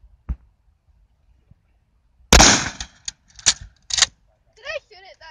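A single loud, close blast from a 12-gauge Remington 870 shotgun firing Blackwidow shorty shells cuts through a quiet outdoor range, followed by a few metallic clanks and a brief voice.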